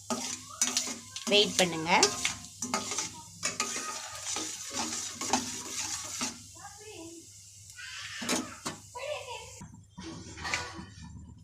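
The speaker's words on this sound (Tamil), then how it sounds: "கடுகு நல்லா வெடிக்குது. நம்ம இப்போ கொஞ்சம் உளுந்து போட்டுக்கலாம்" Mustard seeds and urad dal crackle and sizzle in hot oil for onion chutney, with a steady frying hiss, stirring and utensil clinks beneath frequent speech.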